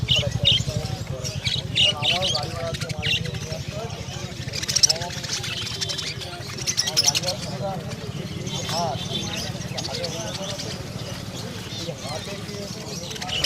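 Budgerigars chirp and twitter steadily through the crowded din of a bird market in Konnagar, with people talking throughout.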